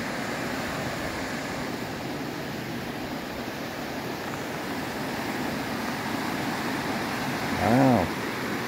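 Water flows in Fryingpan Creek as a steady, broad rushing hiss that holds at an even level throughout, with a brief voiced sound rising over it near the end.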